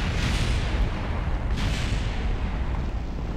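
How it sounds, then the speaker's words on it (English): Spacecraft explosions in the game Kerbal Space Program form a loud, continuous rumbling roar of blasts, dense and booming without a break. "Also known as a very expensive series of explosions."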